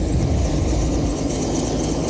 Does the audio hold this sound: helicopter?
yes